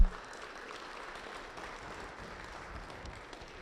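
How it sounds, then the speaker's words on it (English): Audience applause for faculty at an evening gala, a steady wash of clapping from a crowd holding at an even, moderate level for several seconds without voices over it. "Let's give them a round of applause."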